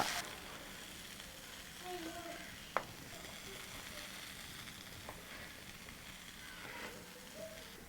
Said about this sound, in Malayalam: നന്നായിട്ട് ഇളക്കിയെടുക്കണം കപ്പ